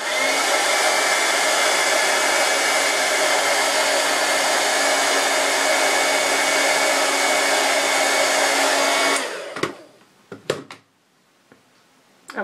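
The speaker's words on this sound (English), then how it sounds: "So I'm just going to hold this with my tweezers and hit the heat gun over it again." A heat gun roars in a loud, steady broadband rush of blowing air over an embossed intricate die cut held in tweezers, then cuts off abruptly, followed by a few soft handling knocks.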